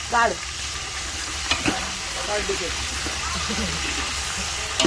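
Onion sizzles and fries steadily in a pan over a wood-fired clay stove while chicken is being cooked, a continuous close hiss with a few stirring scrapes and brief voices in the background.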